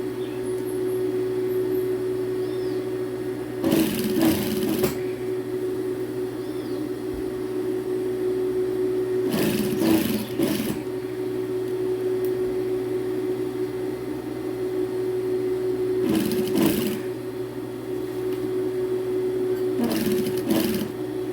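A sewing machine runs a top stitch on a pleated school skirt under a steady background hum, in four short bursts of rapid stitching separated by quiet pauses.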